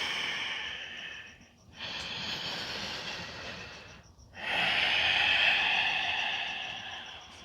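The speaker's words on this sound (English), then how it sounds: "Breathing in" Deep, slow yoga breaths during a sun salutation flow, a long airy exhale, then another and a fuller, louder breath, separated by brief pauses; close and with no talking.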